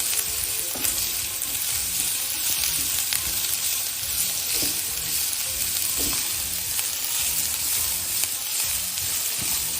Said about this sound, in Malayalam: ചോപ്പ് ചെയ്തെടുത്ത പച്ചമുളക്, ചോപ്പ് ചെയ്തെടുത്ത വെളുത്തുള്ളി ആൻഡ് സവാള, ഇതെല്ലാം ഒരു പാനിൽ എണ്ണ ഒഴിച്ചിട്ട്